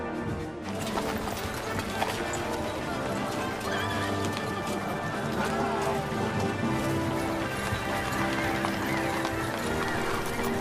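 Horse hooves clip-clop steadily and a horse neighs in Kingdom Come Deliverance II, a medieval game, amid a dense, loud wash of battle and crowd ambience with no speech.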